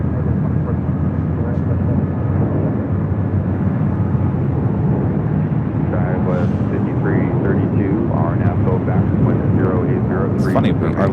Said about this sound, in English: our last departure was Alaska in the One World livery